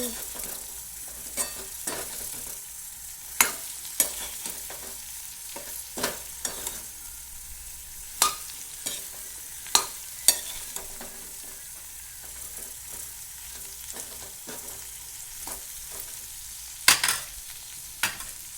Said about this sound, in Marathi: आता टाकते यावर दुसरे कारले